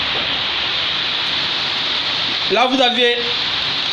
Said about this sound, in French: Là, il pleut vraiment.